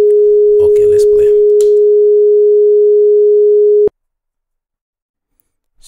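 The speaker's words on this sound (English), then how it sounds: "So generate tone, you click or type 417." A steady 417 Hz pure sine tone made in Audacity holds unbroken and loud for about four seconds, with brief voice sounds over its start, then cuts off abruptly into silence.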